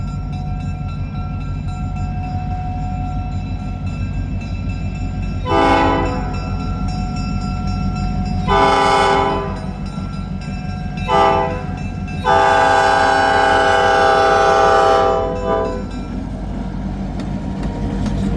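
EMD SD9 diesel locomotive pulling a train alone, with a loud multi-chime horn sounding four blasts of varying length, the last one long, over the steady rumble and clatter of the passing train.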